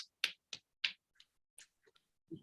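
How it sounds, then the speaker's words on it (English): Sparse hand claps at the close of a regional care board meeting, a handful of separate faint claps scattered over a couple of seconds against near silence. "We're all clapping."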